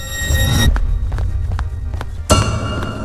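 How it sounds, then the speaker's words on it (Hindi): Footsteps walk outside a hotel room at night in a horror story: a series of evenly spaced, fairly soft steps between two louder bursts of eerie ambient sound. "किसी की चलने की आवाज सुनाई दी"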